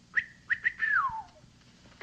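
A person imitates a special hunting whistle: three short high chirps followed by a long whistle that slides downward, clear and close in a quiet room.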